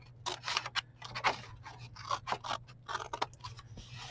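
Card stock being cut by hand for a Christmas shadow box frame craft, a run of short crisp snips and scrapes in an uneven rhythm, close and fairly quiet over a low steady hum.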